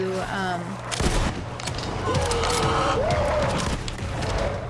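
Gunfire in the video game Borderlands 3, a rapid series of sharp cracks and bursts mixed with game effects and music, with tonal sweeps in between.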